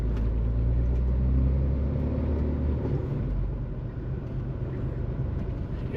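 A lorry passes close by on a country road, a loud, steady low engine rumble with heavy road noise that eases slightly toward the end, no voices.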